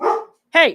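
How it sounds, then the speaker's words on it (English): A pet dog lets out two close, loud barks with a short gap between them, while a person says a brief word. "That's my dog."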